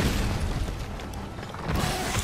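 An explosive Wimmer fire shot from a heavy bowgun in the video game Monster Hunter: World, a broad booming blast with a rumbling mechanical tail, dense and continuous rather than a single crisp crack.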